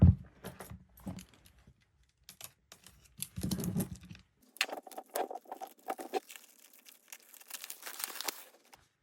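Album packaging is torn open up close, with bursts of crinkling plastic, ripping and rustling paper in irregular handling strokes, ending in a louder crackling tear.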